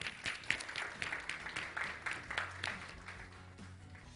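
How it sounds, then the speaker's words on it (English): Conference audience clapping for panelists at a plenary session, faint and fairly sparse, individual claps standing out in an uneven patter. "Let's give them a round of applause."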